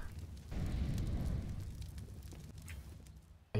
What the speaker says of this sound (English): There's so much fucking fire, dude.